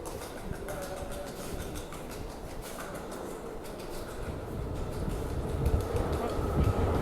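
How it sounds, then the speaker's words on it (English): A train rumbles through the Port Authority station in New York, a low rolling roar that swells toward the end, with rattling and a faint high squeal above it. "Is that my train?"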